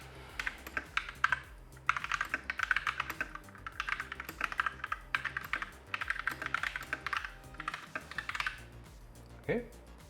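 Rapid typing on a discarded, lit-up computer keyboard as every key is tested, with dense, clattering bursts of clicks broken by short pauses, close and fairly quiet, then a brief thump near the end.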